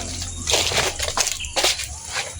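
Water poured out in a few uneven bursts, with a splashy hiss rising and falling at close range, alone without talk.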